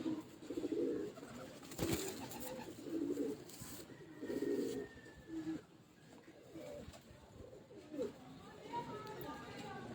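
A Lakha pigeon gives repeated low, soft coos in short rhythmic bursts at close range, mixed with quiet talk and some handling noise.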